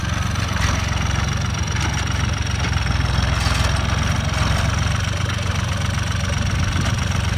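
An Iseki 540 tractor ploughs a rice field, its engine a steady, close, loud drone with a rapid knocking pulse and no pauses.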